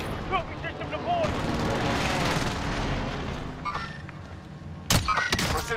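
A Call of Duty Warzone precision airstrike lands as a rolling series of heavy explosions and rumbling booms, with sharp cracks near the end. Game voices and a player speak over the blasts.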